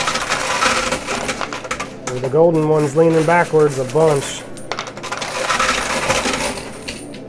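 Quarters clatter and drop in a rapid, dense cascade inside a high-limit coin pusher machine loaded with quarters and gold tokens. The jingling runs loud and close across the whole stretch, while someone talks over the middle part.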